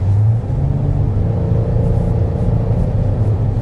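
Low, steady growl of the 3.8 liter V6 engine in a 2025 Kia Telluride accelerating, heard from inside the SUV as a smooth, continuous drone with a rumbling undertone.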